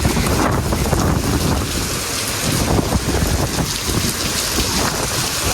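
Heavy rain pours steadily during a flood in Jaffna town near Hospital Road, Sri Lanka: a dense, loud, unbroken roar of drops, with wind buffeting the microphone.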